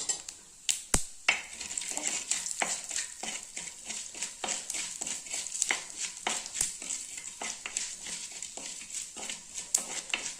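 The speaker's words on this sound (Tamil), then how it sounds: "நம்ம இதே எண்ணெயிலேயே கொஞ்சம் கடுகு போட்டுக்கலாங்க. கடுகு பொரியுதுங்க." Mustard seeds, black pepper, fenugreek and cumin sputter and pop in hot oil in a pan, giving a steady crackling sizzle with sharp, irregular pops, close and alone.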